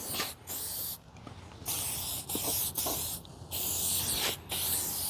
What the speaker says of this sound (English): let's just spray it on there nicely